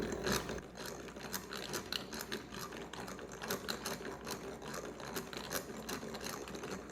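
Heavy whipping cream sealed in a container is hand-cranked to churn butter, giving a steady, close mechanical whirring with rapid ratcheting clicks that runs continuously, with no voices.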